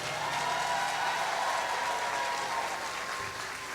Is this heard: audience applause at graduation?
yes